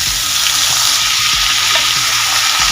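Raw pumpkin pieces dropped into hot oil, a loud, dense, continuous frying hiss right up close, with a few dull knocks of the spatula pushing the pieces around and no talking.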